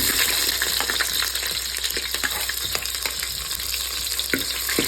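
Onions cut in large pieces sizzle steadily in hot oil with cumin seeds and mustard seeds for a Telangana-style sambar, a continuous close frying hiss with scattered crackles and pops throughout, no talking.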